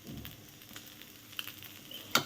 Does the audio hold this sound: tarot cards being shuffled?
no